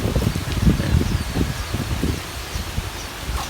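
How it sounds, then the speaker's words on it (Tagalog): A strong, gusty wind rushes through leaves under an overcast sky ahead of rain, a steady broad rustle that surges and eases. "Lakas na ng hangin."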